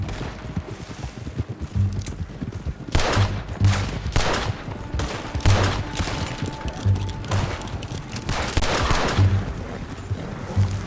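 Rapid gunfire bursts and repeated shots crack through a Red Dead Redemption 2 firefight, dense and loud across the whole stretch, with steady background music underneath.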